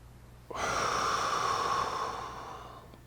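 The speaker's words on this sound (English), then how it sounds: "Same position, inhale." A single long, close inhale during a low-back pain exercise. It starts suddenly, sounds airy and steady for about two and a half seconds, then fades out, with no speech.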